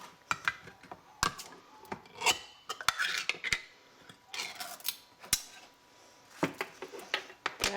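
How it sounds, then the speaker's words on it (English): An expired can of chili being opened with a can opener in a home kitchen, close and fairly quiet, a run of short metallic clicks and rasping scrapes in an uneven rhythm. "So let's go ahead and open the chili."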